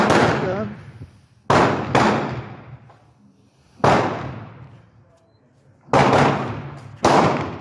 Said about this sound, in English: I thought I'd bring it out to the range today and shoot it.